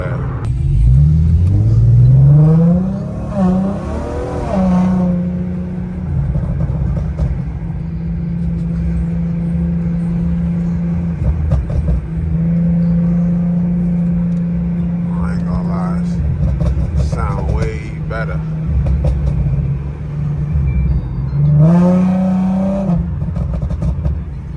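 Revving engine of an Infiniti G37 fitted with oil catch cans, loud and close, rising in several sharp revs near the start and again toward the end, with a steady idle rumble between; music plays underneath.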